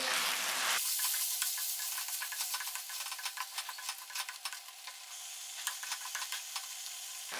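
Cream and butter being stirred into chicken makhani with cashew paste in a hot pan. A sharp sizzle gives way to repeated scraping stir strokes and soft bubbling, close and steady, with no voices.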